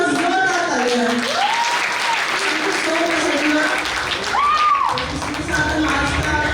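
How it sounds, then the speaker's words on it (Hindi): Audience applause after a residents' drama about Shivaji Maharaj's escape from Agra: loud, continuous clapping from a crowd, with sustained vocal tones and music-like sounds running over it throughout. "इनकी सोच के लिए सलाम है और जोरदार तालियां हैं"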